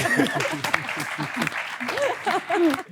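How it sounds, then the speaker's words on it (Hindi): A studio audience at a Pakistani TV talk show breaks into applause, the clapping mixed with voices speaking over it. "तालियां।"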